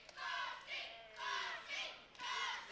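A wrestling crowd in Secunda cheers and shouts in three loud surging waves, voices rising and falling as they rally behind a wrestler on the mat.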